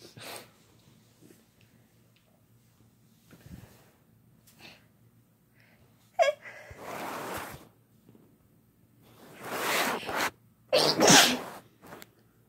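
Two or three sneezes come late in the sequence, the final pair loud and breathy, following a few quiet sniffs and soft breaths close by.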